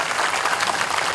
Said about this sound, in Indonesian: Tepuk tangan buat Adipura dan kita semua.